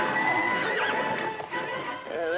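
Horse neighing loudly with repeated whinnies, clip-clopping hooves and faint background voices in an old Western television drama.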